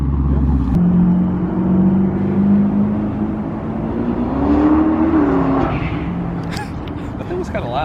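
A loud modified Camaro show car engine rumbles close by, revving up and settling back in a deep, throaty drone, with people talking over it.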